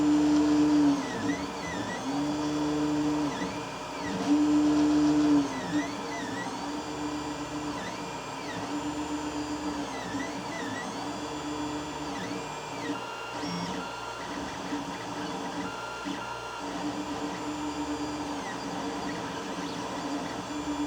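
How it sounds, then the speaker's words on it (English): Creality Ender 5 3D printer laying down its first layer, a steady close mechanical whir of stepper motors with repeating tonal sweeps and a constant hum, continuing alone without talk throughout. "now I'm going to start the print, and we're going to take a measure to see what our baseline noise level is printing"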